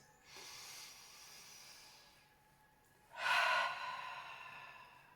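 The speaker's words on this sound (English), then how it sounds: "Taking deep breaths." Two slow, deep breaths close to the microphone, a soft airy inhale followed by a louder, breathier exhale, with no talking.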